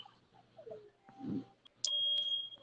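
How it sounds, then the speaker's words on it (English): A smoke or fire alarm sounds a steady high electronic beep that starts abruptly partway in and holds loud to the end, after quieter background noise. "fire alarm going off"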